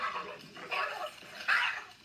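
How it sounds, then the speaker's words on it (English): A dog yelps after touching an electric fence near a donkey, giving two or three sharp, high cries spaced about a second apart, fairly close and with no talk. "The dog got hit by the electric fence."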